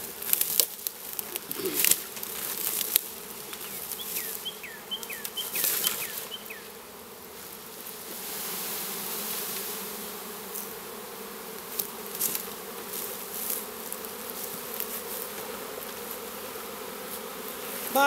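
A honey bee swarm in Waycross, Georgia drones in a dense, continuous buzz, with single bees zipping close past the ear now and then.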